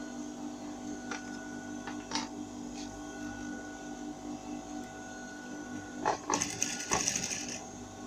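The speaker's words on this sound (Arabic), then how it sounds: "هنا فين غادي نخيط، غادي نحط باش ندير الخياطة فوق" Sewing machine stitching a pocket on an unlined coat, a steady mechanical hum with sparse ticking, then a few short fast stitching runs near the end, close and moderately quiet.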